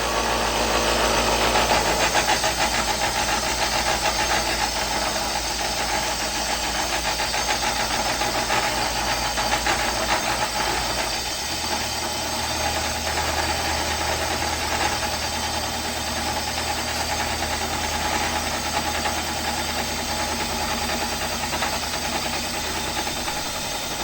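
An engine idling slowly at about 500 RPM, a steady close and loud low throb running unbroken throughout, with a slight change in its low rumble partway through.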